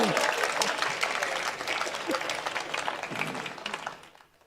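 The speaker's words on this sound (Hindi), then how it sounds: "तालियां बजाओगे" An audience at a comedy show claps in a lively, crackling burst that holds for a few seconds, with voices under it, then thins out and fades away near the end.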